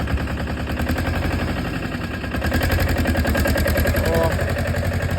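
A small tractor engine runs nearby with a loud, steady rapid chugging, in low-range second gear, growing slightly louder partway through, with a voice briefly under it.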